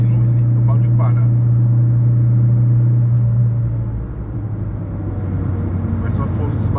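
Fiat Uno Way cruising above 100 km/h, its cabin filled with a loud, steady droning hum and road rumble that shifts in tone partway through and then settles into a lower roar.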